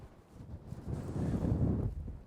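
Strong wind gusts sweep across a cold wild campsite, a low buffeting roar swelling to a peak and easing off, close and rumbling against the microphone.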